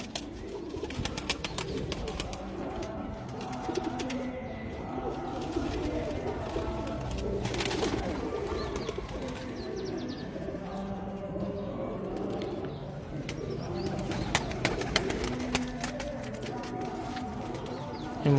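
Breeder pigeons coo continuously at moderate loudness, with layered overlapping calls and faint background rustling throughout; no speech is heard.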